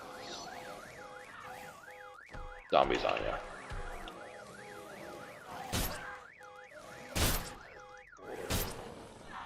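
A fire alarm in the Night of the Dead video game wails in a steady rising and falling warble. It runs throughout, punctuated by loud thumps and a man's brief speech.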